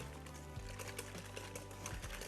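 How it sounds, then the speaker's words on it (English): Eggs being whisked for a bread and butter pudding, a steady whirring hum with a busy rattling texture that holds throughout and shifts pitch briefly partway through. "again, whisk that up."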